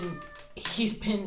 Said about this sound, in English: if you hear the meowing in the living room